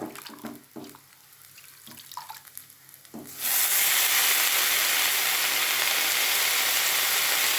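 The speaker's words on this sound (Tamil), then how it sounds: "தண்ணி ரெண்டு மூணு தண்ணி ஊற்றி நல்லா அலசிடுங்க" A few soft clinks and handling sounds, then a tap opens and water pours steadily and loudly into a basin to rinse mukkirattai greens until the end.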